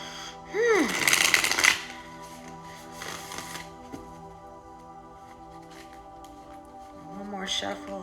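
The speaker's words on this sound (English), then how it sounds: "One more shuffle." A deck of oracle cards is shuffled in a quick burst of riffling, close and fairly loud, with another short rustle a couple of seconds later and quieter handling after that, while a person talks nearby.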